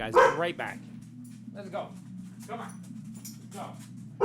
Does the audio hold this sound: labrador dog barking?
yes